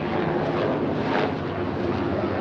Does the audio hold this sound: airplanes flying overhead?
yes